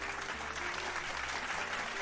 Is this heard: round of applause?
yes